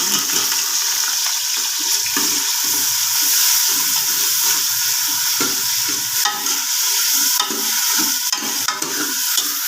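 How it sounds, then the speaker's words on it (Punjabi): Onions frying and sizzling in hot ghee in a cooker, a loud, steady, close hiss with stirring scrapes breaking through, no talking over it. "ਘੇ ਜਦੋਂ ਅੱਛੇ ਤਰੀਕੇ ਨਾਲ ਗਰਮ ਹੋ ਜਾਵੇ ਨਾ ਫਿਰ ਵਿੱਚ ਪਿਆਜ਼ ਸ਼ਾਮਿਲ ਕਰਿਆ ਕਰੋ"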